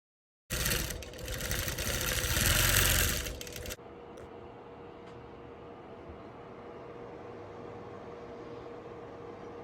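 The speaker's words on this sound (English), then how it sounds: "So I'm stitching in the ditch all the way around this quilt." Computer-guided longarm quilting machine stitching in the ditch around a quilt: a loud, steady mechanical whir for about three seconds that stops abruptly, leaving a low hum of room noise, with no talk.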